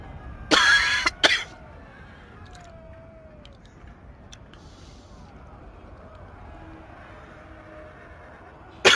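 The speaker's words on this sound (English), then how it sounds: "Oh, I do apologise about this cough" A man coughs twice in quick succession, close and loud, then a quiet background of low game ambience from a Total War: Attila session follows, with another brief sharp burst at the very end.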